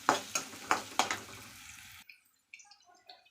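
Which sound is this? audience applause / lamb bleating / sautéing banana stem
sautéing banana stem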